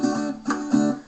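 Guitar chord strummed three times with the fretting fingers eased off to mute it, each short chord cut off quickly rather than ringing out, close and clear.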